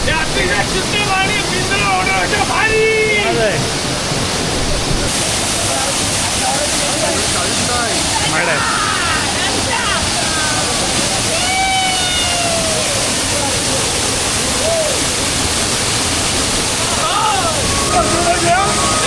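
Waterfall tucked in the Sahyadri hills near Chiplun, a steady loud rush of falling water filling the whole clip, with voices and chatter heard over it now and then.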